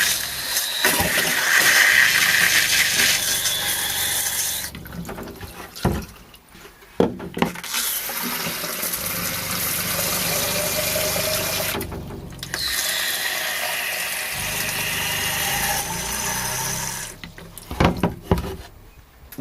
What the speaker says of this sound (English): Once the pump starts to suck water, the pump makes a very distinctly different sound compared to when it's just